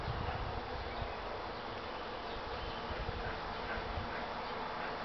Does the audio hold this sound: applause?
no